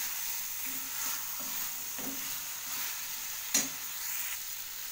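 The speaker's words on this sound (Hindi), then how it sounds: "इसे भी अच्छे से भून लेंगे।" Chopped capsicum frying in masala paste in a pan, a steady soft sizzle with scraping strokes of a spoon stirring at irregular intervals, one sharper clack midway.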